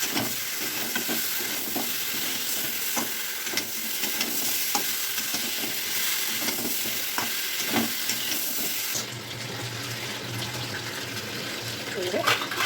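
Ridge gourd frying in a pan gives a steady, close sizzle with stirring scrapes and clinks throughout, a voice speaking now and then over it.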